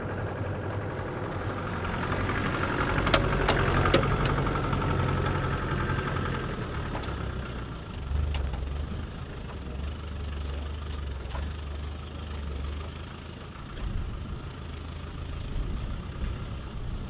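Low, steady engine rumble as a truck crawls over rocks in first gear, a quiet continuous drone with occasional knocks and clunks from the rough ground, no voices.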